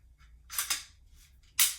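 A Glock 17 pistol is handled and dry fired with no magazine and nothing chambered, giving a few close, sharp mechanical clicks and snaps, with the loudest click near the end.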